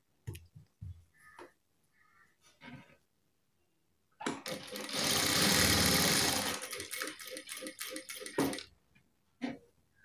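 A sewing machine stitches a saree blouse in one continuous burst of fast, even whirring, preceded by small clicks and handling of fabric, then slowing to a stop.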